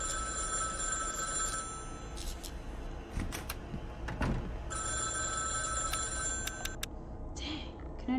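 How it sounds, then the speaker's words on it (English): An old-style telephone bell rings in two long, shrill bursts with a pause between, steady and moderately loud over a dim droning background in a circus-themed horror video game. "let me go back to that room because there was a phone ringing"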